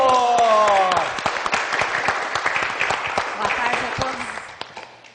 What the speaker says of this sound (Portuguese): Vamos aplaudir a nossa apresentadora